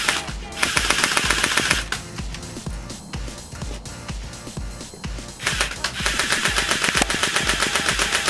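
An HB101 micro M16 airsoft BB gun firing in rapid bursts, loud and close, with fast mechanical clatter forming near-continuous strings and a short lull in the middle before firing resumes.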